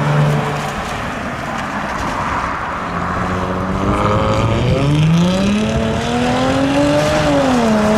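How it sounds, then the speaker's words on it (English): A Jaguar car pulls away from a barn find gathering, its engine revving up and rising in pitch as it accelerates, loud and close at first, with wind buffeting the microphone. "Watch the man in his Jag depart."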